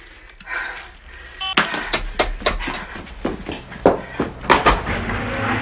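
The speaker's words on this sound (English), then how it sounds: "Somebody at the door now." A door opened for a caller at a busy home, a latch click followed by a run of knocks and thumps at close range, with light shuffling in between and no voices.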